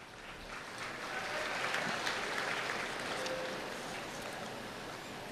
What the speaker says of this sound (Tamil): கைதட்டு வாங்கிறதுக்கு இவ்வளோ சுலபமான வழி இருக்கும்போது